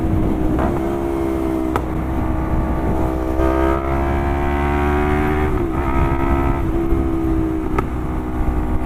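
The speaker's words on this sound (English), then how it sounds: "Can you hear it backfiring?" Lexmoto LXR380 motorcycle engine revving hard and steadily near the rev limiter, with a few sharp pops from a rich-running engine cutting through the drone.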